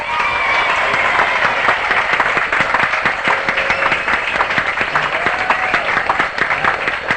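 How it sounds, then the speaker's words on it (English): A commencement audience applauds the graduates' parents, steady sustained clapping filling a large hall, with faint voices beneath. "The round of applause is truly deserved."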